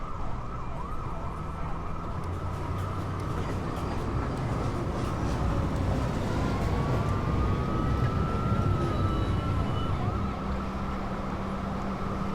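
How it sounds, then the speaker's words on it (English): Downtown local 1 train on the NYC subway approaching the station, a steady roar of wheels and motors with a rising-and-falling whine, loud and continuous for the whole stretch. "Downtown. Local 1 train. Approaching the station, please stand away from the platform edge."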